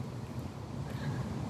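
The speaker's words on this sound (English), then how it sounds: "It's a pretty day outside, but man, it's windy." A strong wind blows outdoors on a cold day, buffeting the microphone in a low, continuous rumble that swells and eases slightly without any break.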